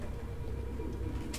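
Pigeons coo in the video game Detroit: Become Human. Several birds make a soft, low, continuous murmur of overlapping coos close by, with no talking.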